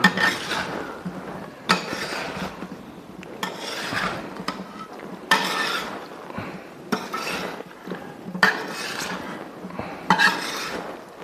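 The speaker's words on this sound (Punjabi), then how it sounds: "ਦੇਖੋ ਜੀ ਇਦਾਂ ਮਿਕਸ ਕਰ ਦਿੰਨੇ ਆ ਸਾਰਾ ਜਿਹੜਾ ਮਸਾਲਾ ਕੱਲੇ ਕੱਲੇ ਔਲੇ ਦੇ ਨਾਲ ਲੱਗ ਜੇ" Spiced masala being mixed into Indian gooseberry (amla) pickle in a bowl, with repeated clinks and scrapes of a utensil against the dish at a steady rhythm, close and moderately loud, with no talking.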